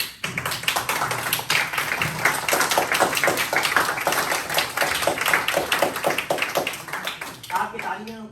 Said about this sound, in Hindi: आपकी तालियों को सुनकर के मुझे प्रसन्नता हुई